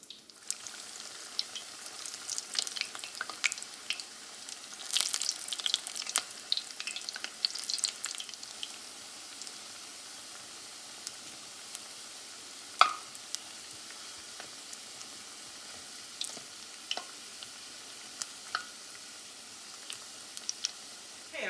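Hush puppies fry in moderately hot grease, giving off a soft continuous crackling sizzle with scattered pops, busier at first and then settling into a quieter bubbling.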